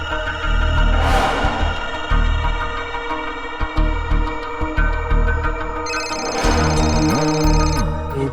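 A telephone rings loudly and steadily for several seconds indoors, its repeated electronic tones layered over music, with no talking.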